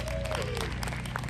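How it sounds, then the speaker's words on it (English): Crowd giving a round of applause at a civic anniversary event, a continuous dense clapping wash heard briefly, with a faint voice underneath. "I think that deserves a round of applause."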